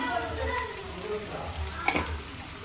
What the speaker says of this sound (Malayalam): ഇനി ഞാന് ഉള്ളി വഴറ്റാം